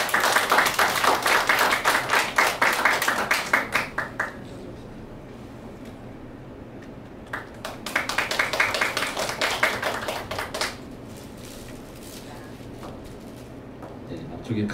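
Audience clapping at a Korean traditional music awards ceremony, in two bursts of dense applause that fade out, with quieter room sound and a bit of talk between them.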